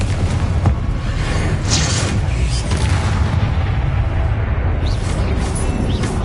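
A Confringo blasting spell explodes in Hogwarts Legacy, a deep rumbling boom with a dense, sustained roar that stays loud and continuous for several seconds.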